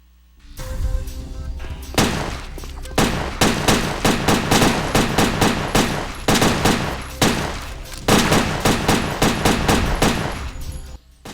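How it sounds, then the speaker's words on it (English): Gunfire rings out during a shooting test in the video game Headhunter, loud rapid bursts of automatic shots repeating in close, sharp volleys broken by short pauses, with no talking. "And this is a shooting test."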